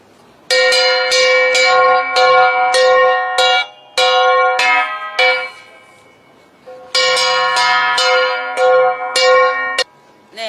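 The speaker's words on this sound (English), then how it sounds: "We have the gong, which is the kalsa. It is the lower sound, lower pitch of the gong." A kalsa, a low-pitched Cordillera gong, is struck loudly and repeatedly in a lively rhythmic pattern. Bright ringing tones hang between the hits, and the playing breaks into phrases with short pauses.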